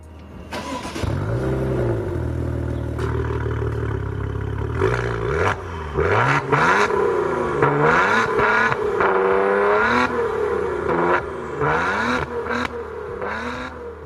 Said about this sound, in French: Il faut bien ça pour délivrer l'imposante sonorité du V6 3 litres biturbo qui se cache sous le capot de la